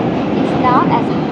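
Moving New York City subway train, a steady rumbling ride with a brief whine of wheels or brakes rising midway, and a voice faintly mixed in.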